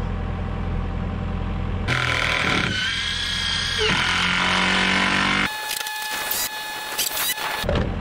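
Excavator engine running on a residential post-and-beam house build site, a steady mechanical drone that shifts in pitch and load partway through, with no talking.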